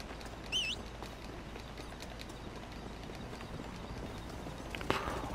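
Faint, quick clip-clop of hooves trotting in the background in the video game Red Dead Redemption, steady and soft, with a brief louder knock near the end.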